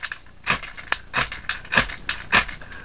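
A ferro rod fire starter struck several times, giving five or six sharp scraping bursts spaced about half a second apart, close and fairly loud with no talking.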